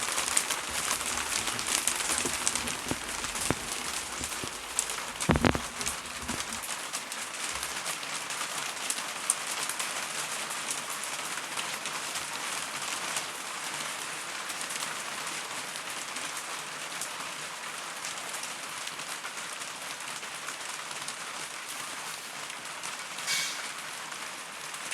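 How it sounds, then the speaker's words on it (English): Rain mixed with hailstones falls steadily in Luton, UK, as a dense, even hiss of drops on surfaces that runs throughout with no voices. "We're getting hailstone. We're getting rain."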